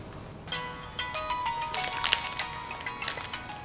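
A phone rings indoors in a Turkish TV drama scene, a steady electronic ringtone with sustained tonal notes running the whole time at moderate level, with faint clinks and room noise.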